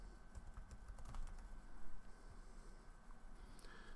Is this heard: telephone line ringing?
no